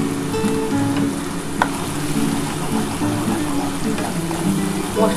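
Whole garam masala, cardamom, a bay leaf and a dried red chilli sizzle in hot oil, with a close, continuous crackle and light stirring throughout.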